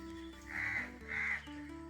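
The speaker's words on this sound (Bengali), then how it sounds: "কাকগুলো আমাদের আওয়াজ কীরকম চিনে গেছে দেখো" Crows caw twice in reply to calls, two drawn-out, faint caws with a short pause between them over a low steady hum.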